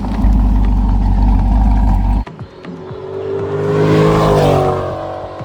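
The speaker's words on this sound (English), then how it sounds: "driving in a Corvette convertible in sunny Colorado." A Corvette C8 convertible on a sunny Colorado canyon road gives a loud, steady engine drone with wind rush, a sharp break, then the engine note swells again as the car accelerates.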